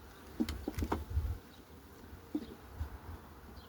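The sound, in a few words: honey bees buzzing around hive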